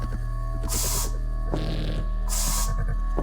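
Spray paint hisses in bursts in the video game Bad Dream: Fever, three short sprays over a steady droning ambient hum and pulsing background tones.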